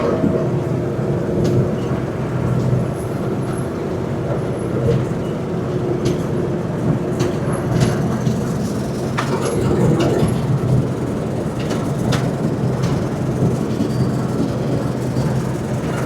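A large combine harvester drives through a village field during a harvesting competition, its engine giving a continuous loud rumble with clattering mechanical noise and occasional clicks throughout.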